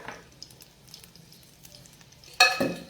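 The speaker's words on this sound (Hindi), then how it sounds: "इसी में हम ना थोड़ा सा घी ऐसे डालेंगे हांडी को" Ghee hitting a smoking-hot handi pot bursts into a sudden loud sizzle near the end, after a quiet stretch with faint kitchen clinks.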